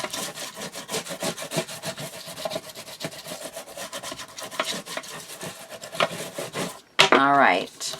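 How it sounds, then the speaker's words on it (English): A glued paper piece for a bird-themed journal and mini album is burnished with quick, repeated rubbing strokes close by, ending in a brief, different squeaky sound. "I'm going to flip her over and give it a good burnish"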